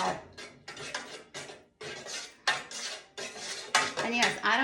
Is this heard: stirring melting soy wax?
yes